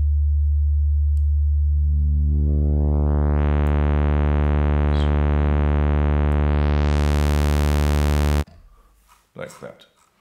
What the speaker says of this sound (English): So this is pretty much exactly how phase distortion works.